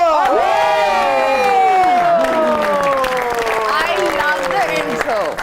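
A studio audience on a comedy talk show cheers, shouts and applauds loudly to welcome a female guest, with sustained voices whooping over continuous clapping that fades slightly toward the end.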